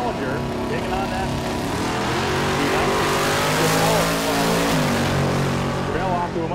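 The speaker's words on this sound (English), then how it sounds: "Chevelle off to a much better launch than he's had all day" A Chevrolet Chevelle launches at a drag race, its engine roaring loudly and steadily with rising revs, mixed with another car's engine and a commentator talking over it.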